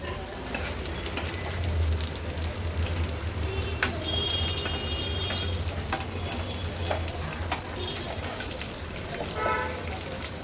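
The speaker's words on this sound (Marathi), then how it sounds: "लो फ्लेमवरच मागची बाजू पण ह्याची अशीच आपल्याला व्यवस्थित फ्राय करून घ्यायचं आहे" Chicken malai seekh kebabs fry gently in a pan over a low flame, a soft, even sizzle with faint crackles and a low background hum.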